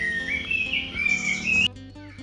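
A cucak cungkok songbird chirps up close, giving a bright warbling phrase that rises and falls before breaking off abruptly, with no talking.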